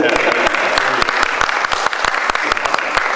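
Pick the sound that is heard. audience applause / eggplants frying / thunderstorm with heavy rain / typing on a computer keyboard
audience applause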